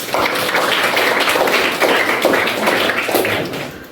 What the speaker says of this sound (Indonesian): Kita beri tepuk tangan untuk Rizkia.